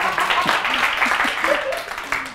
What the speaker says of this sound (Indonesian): Tepuk tangan aja nggak apa-apa kalau tepuk tangan.